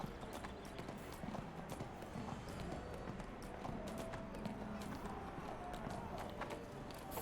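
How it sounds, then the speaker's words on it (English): Horse hooves clip-clop steadily in the Neverwinter fantasy game as a mount trails along behind, a quick continuous patter under an ongoing game soundscape with someone talking over it. "Horse is following you."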